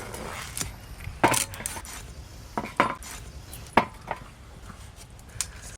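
A knife cuts peeled bottle gourd on a board, giving several separate sharp chops and knocks at uneven intervals over a quiet background.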